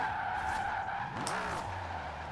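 A Holden's rear tyres spin, squeal and skid in Forza Horizon 4 in a steady, high-pitched whine over a droning car engine, with a brief sweeping screech midway.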